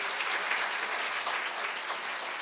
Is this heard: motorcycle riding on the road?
no